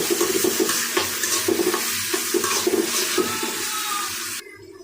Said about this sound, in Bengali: ভালো করে সব কিছু নাড়াচাড়া করে কষিয়ে নেব।